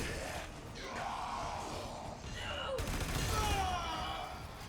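Rapid gunfire bursts from the video game Warframe, a dense crackling fusillade mixed with loud game effects and shouting, steady and up close throughout with a burst of louder shots toward the end.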